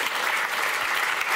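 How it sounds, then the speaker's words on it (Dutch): Warm applause from an audience at a public discussion evening, a steady, even patter of many hands clapping throughout the brief moment. "Geef een warm applaus. Wethouder Udo Kok."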